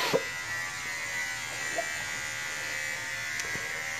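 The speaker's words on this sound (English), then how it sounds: "So now she is shaving her hair for cancer." Steady, close buzz of electric clippers shaving a girl's head for charity, running continuously with small clicks and knocks as the blades move over her hair.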